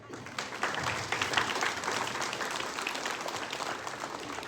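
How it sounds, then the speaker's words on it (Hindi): An audience of children and guests claps at a school Republic Day celebration, a dense, steady patter of applause held at moderate distance for a few seconds. "आप सब लोग अपने लिए तालियां बजाएं."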